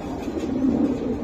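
Pigeons coo in low, steady murmuring calls, close and continuous, a loft of active male and female birds.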